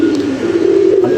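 Pigeons coo close by, with a low steady warble and a few soft flutters of landing birds.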